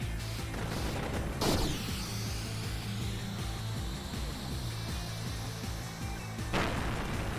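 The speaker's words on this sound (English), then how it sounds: "This ship has fireworks." Fireworks blow up aboard a ship in the Sonichu the Electric Hedgehog video game, with two sharp, loud bursts, one early and one near the end, over a steady droning game soundtrack.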